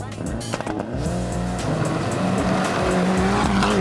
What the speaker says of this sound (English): to start, Hamid Al-Qasim and Mohammed Mazrui in the Mitsubishi Evo 8.